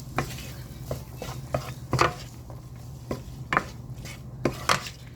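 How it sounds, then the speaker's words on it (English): Onions and carrots sautéing in melted butter in a pan while a utensil stirs, with repeated scraping and clinking strokes over a low steady cooking hiss, close and fairly loud. "Put those carrots in there, and we're going to saute this for about 5 minutes"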